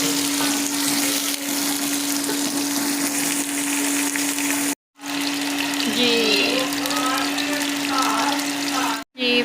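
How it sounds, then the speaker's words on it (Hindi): Onions frying lightly in hot oil for a desi tinda (round gourd) dish, a steady broadband sizzle running throughout with a constant low hum, a couple of brief cut-outs, and faint clinks of stirring. "तो अब हम इसमें प्याज डालेंगे। प्याज को करेंगे हल्का सा फ्राई।"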